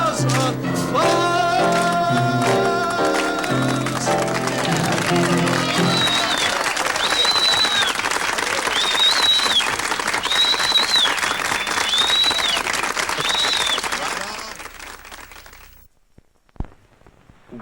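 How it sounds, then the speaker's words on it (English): Crowd applause swells beneath a musical passage on a late-night television show, then continues with a warbling high tone above it before fading out near the end. "Applause, applause, applause, applause, applause, applause, applause."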